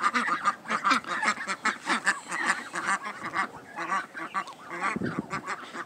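Blue Swedish ducks, both a drake and a female, keep up a busy, loud chorus of quacks and honking calls nearby, overlapping in uneven bursts for several seconds with no clear talk.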